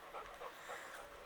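A dog pants softly and rhythmically outdoors on a hot day, quick faint breaths repeating several times close by with no talking.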